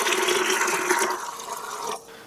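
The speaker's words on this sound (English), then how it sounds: "you're going to want to add water." Water pours steadily into a pot of red beans for vegetarian Cajun red beans and rice, a close splashing rush that stops abruptly near the end.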